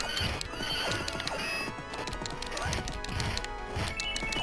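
A horse in a retro video game whinnies and gallops, with rapid clip-clop hoofbeats running steadily throughout, loud and close amid busy game sounds.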